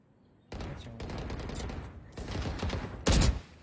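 Video game gunfire in a round-based shooter, sustained bursts of rapid automatic shots, with a louder close burst near the end.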